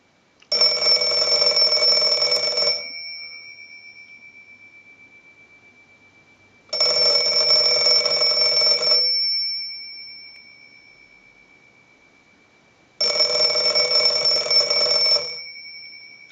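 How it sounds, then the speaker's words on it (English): A Western Electric 302 rotary desk telephone bell rings loudly in three long bursts of about two seconds each, separated by pauses of several seconds, with no voices. "send a ring cycle like you were getting a call"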